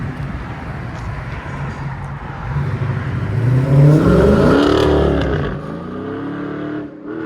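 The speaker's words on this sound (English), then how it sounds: "Scat Pack, lowered, matte black, JBA system." A lowered 2019 Dodge Charger Scat Pack with a 6.4-liter HEMI V8 and JBA exhaust idles with a deep rumble, then revs up loudly and close before settling back toward idle, with no talking.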